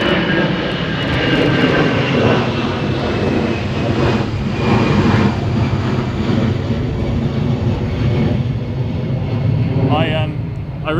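A departing airliner from London Gatwick Airport passing straight overhead off the runway centre line during a storm, a loud sustained roaring jet rumble with wind buffeting throughout and brief voices near the end.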